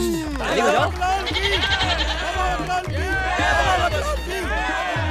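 A goat bleats repeatedly in wavering cries close by, mixed in with excited shouting and talking from several people.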